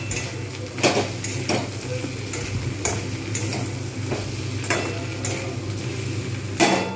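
Steady frying sizzle from a pan of potato and pointed gourd in oil, with a few sharp scrapes and clinks of a utensil stirring the food at irregular intervals.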